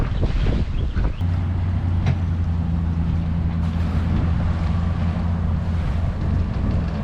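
An old dinghy out on the water, with a steady low motor hum mixed with wind buffeting the microphone and lapping water, continuous and fairly loud throughout.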